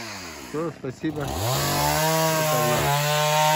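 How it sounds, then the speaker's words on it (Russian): A chainsaw cuts firewood at a remote taiga cabin, its engine revving up and holding a steady loud drone at close range, with a brief voice spoken over the start. "Пилит, заготавливает дрова, товарищ."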